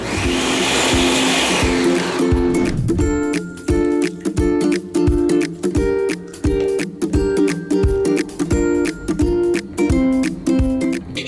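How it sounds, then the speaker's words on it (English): Close, loud blender motor grinds pomegranate seeds with water and lemon continuously, starting with a rough whoosh and settling into a pulsing, steady whir for several seconds. "Blender."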